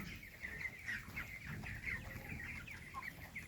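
Chickens cluck and squawk continuously on a poultry farm, a busy chorus of hens heard fairly faint with no talk.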